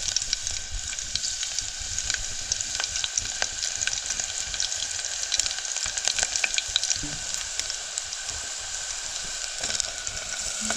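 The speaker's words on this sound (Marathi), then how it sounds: "लसूण टाकलं." Garlic frying in oil on a clay stove, a continuous close sizzle with scattered crackles and light stirring clicks at an even level, no voices.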